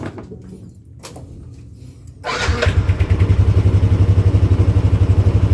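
A Yamaha Nmax scooter fitted with a Daytona 1500 rpm clutch starts after a couple of short clicks and settles into a loud, close, steadily pulsing idle.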